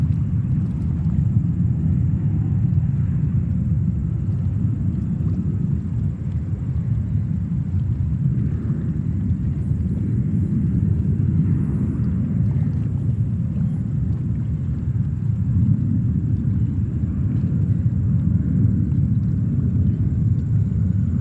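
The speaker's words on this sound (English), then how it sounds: "another JetBlue 320, flight 602, coming in from Fort Lauderdale in Florida" A JetBlue Airbus A320 landing at New York's JFK airport, a steady broad low rumble of jet engines holding evenly throughout, fairly loud and continuous with no talking.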